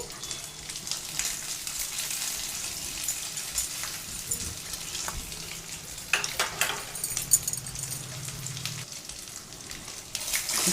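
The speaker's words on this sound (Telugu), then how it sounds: "కరివేపాకు మంచిగా వేగేటట్టు, ఉప్పు అంతా కలిసిపోయేటట్టు మంచిగా వేసుకోవాలి." Curry leaves and salt fry in hot oil while puffed rice is stirred through for a murmura mixture snack, a steady close sizzle with crackles and scraping stirs, with no speech.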